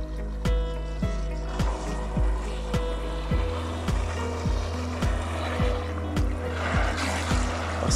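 A Chinese AliExpress RC bait boat running at speed 2 gives a steady, close electric motor whine with a regular thumping pulse, alongside light splashing water.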